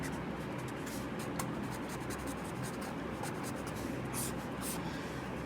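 A hand draws a diagram of a Warthin's tumor with a pen or pencil, producing close, soft scratching strokes in short uneven bursts over a steady low background hum.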